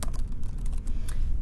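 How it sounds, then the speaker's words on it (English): Quick, light clicking of keys on a computer keyboard, a rapid irregular patter of close taps with no talking. "then I can start typing notes"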